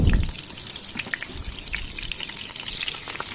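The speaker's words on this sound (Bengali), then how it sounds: "আর এইভাবে আমি সমস্ত পকোড়াগুলোকে ভেজে নিচ্ছি" Chicken pakoras for honey garlic chicken deep-frying in hot oil, giving a soft, steady crackle with scattered fine pops, plus a brief louder burst right at the start.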